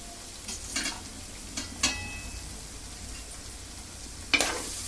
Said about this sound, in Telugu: కారం కూడా వేపుకుంటే పచ్చిగా ఉండదు